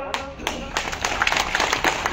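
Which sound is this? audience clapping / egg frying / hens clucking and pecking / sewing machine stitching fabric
audience clapping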